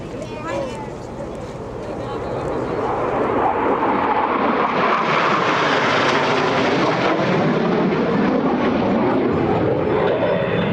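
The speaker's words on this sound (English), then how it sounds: "Blue Angels 5 and 6 are approaching the flight line at 400 miles per hour" US Navy Blue Angels jets 5 and 6 pass at 400 mph over an air show, a roaring rush that swells from a distant rumble to a loud peak with a falling pitch sweep, while an announcer talks over it.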